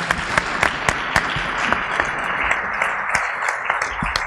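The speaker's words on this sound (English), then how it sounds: "let's give a round of applause to the panelists who I think did a great job" Audience applause for panelists at a religious freedom summit, a steady wash of many hands clapping with sharper individual claps standing out, moderately loud and continuous throughout.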